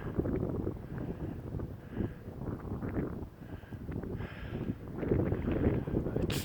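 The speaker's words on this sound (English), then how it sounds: "A bit of wind out here, but sun is shining." Wind outdoors on a hiking trail in Frontenac Provincial Park in April, gusting buffets and rumbles that rise and fall across the microphone in uneven waves, with no speech.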